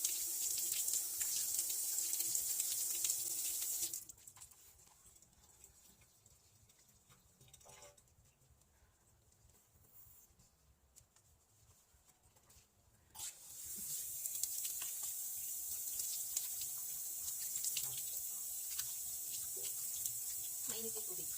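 Water from a tap runs steadily into a sink in a home bathroom, a loud hiss at the start and end, quieter and interrupted in the middle.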